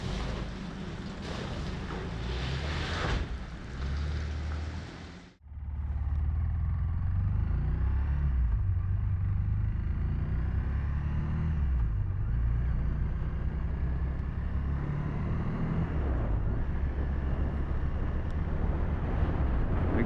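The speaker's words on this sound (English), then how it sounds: "this is the part that requires a lot of engine braking, I suppose, because it's just downhill all the way" A Honda Rebel 300 motorcycle engine-braking on a long downhill stretch of road in Shenandoah, a steady low engine drone mixed with strong wind rush, close and continuous after a brief dip.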